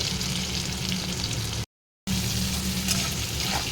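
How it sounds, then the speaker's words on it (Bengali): Out-of-season cauliflower pieces fry in oil in a pan, giving a dense, even sizzle up close that cuts out to brief silence midway and then resumes just as strongly. "ফুলকপিটা ভাজতে দিয়েছি ফুলকপিটাও আমি একটু বেশ ভালো করে ভেজে নেব"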